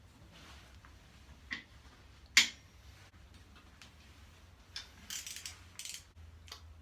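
Head gasket bolts on a Subaru engine being backed off with a torque wrench used as a breaker bar: quiet ratcheting clicks and metallic ticks, with a sharp crack of a bolt breaking loose, in a quiet workshop.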